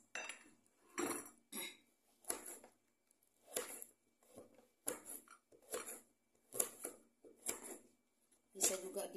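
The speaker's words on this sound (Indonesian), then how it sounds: "Kunyit ini kita iris-iris." Knife slicing through fresh turmeric root on a board for a traditional Indonesian herbal drink, a steady run of about ten crisp chopping taps with short pauses between, close and clear with no talk over them.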